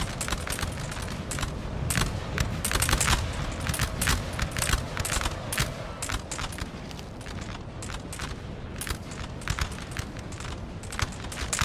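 Musket volleys crackle from line infantry in a Napoleon Total War online battle, dense overlapping shots popping continuously with repeated sharper bursts over a steady din of battlefield noise, fairly loud throughout with no talk.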